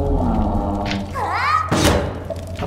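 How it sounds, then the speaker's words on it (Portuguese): A single heavy melee blow lands on a monster in the metroidvania game Lost Ruins: one loud, solid thud with a broad crunch, set over steady game music and effects. "Mata os bichos com uma pancada."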